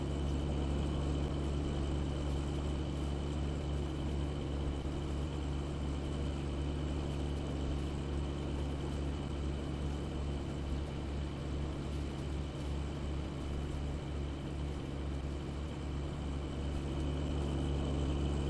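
A tractor engine in Farming Simulator 19 drones steadily at a constant low pitch for the whole stretch, loud and unbroken, with no voices.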